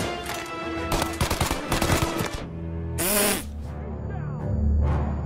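Gunfire in the Mafia video game sounds as a quick cluster of sharp, close shots, followed by a single louder report and a quieter stretch of game ambience.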